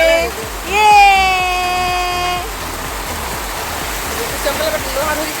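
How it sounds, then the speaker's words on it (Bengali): Heavy rain pours down around a balcony in a steady, loud rushing wash. A long vehicle horn blares early on, and faint voices are heard near the end. "কি দারুণ বৃষ্টি পড়ছে"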